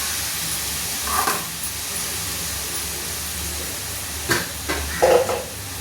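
Curry leaves sautéing in a pan make a steady low hiss and sizzle, broken by a few short clinks and scrapes of stirring.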